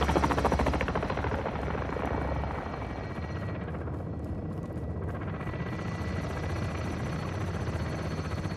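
Helicopter in the Call of Duty Modern Warfare II campaign, a steady loud rotor thrum and turbine whine that fills the whole stretch without a break and with no talk over it.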